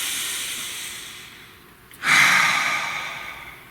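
A single deep breath, a slow quiet intake followed by a stronger, breathy exhale, close to the ear with no talking.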